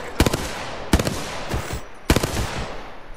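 Rapid gunfire in Apex Legends comes in three quick bursts of sharp, close shots, each trailing a short echo, with brief pauses between them and no talking.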